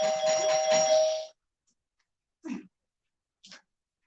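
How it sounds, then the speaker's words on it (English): A doorbell chime rings out clearly for about a second, followed by silence and two brief, faint sounds. "The doorbell."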